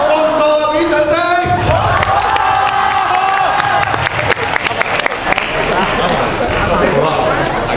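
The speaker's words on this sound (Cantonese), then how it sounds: "俾掌聲！" Loud applause and cheering from a school Christmas party crowd, dense clapping mixed with excited shouts and children's voices, with talking and a held tone near the start.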